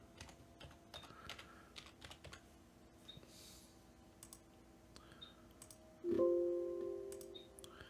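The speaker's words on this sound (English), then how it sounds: "we'll need to type in our super secret password" Fingers type a password on a computer keyboard, a steady stream of light, close key clicks at an even pace, followed near the end by a brief louder electronic tone; no one speaks.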